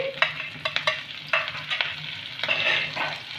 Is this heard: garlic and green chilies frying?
yes